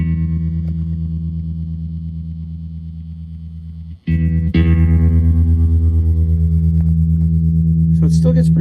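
A humming amplified tone from a 1974 Fender Super Six Reverb guitar amp, tremolo pulsing at its fastest speed, briefly cut out before returning louder and steady, with faint plucks at the end.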